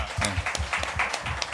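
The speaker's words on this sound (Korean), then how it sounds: "박수 쳐드립니다" Brief clapping in a Korean talk-show studio, a short burst of a few hand claps in loose rhythm, close and moderately loud, with no voices over it.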